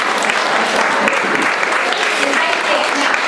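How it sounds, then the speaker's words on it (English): Audience clapping fills a comedy show hall, a dense, loud and steady round of applause from a crowd, sustained throughout without a break. "Give yourself a clap."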